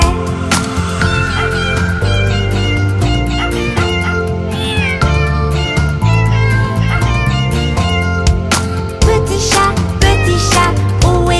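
Cat meows ring out repeatedly over a bright, loud backing track in a French children's nursery song, mixed in among the music and sung melody.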